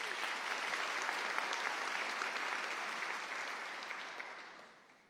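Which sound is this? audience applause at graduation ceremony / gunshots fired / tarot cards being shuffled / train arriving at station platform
audience applause at graduation ceremony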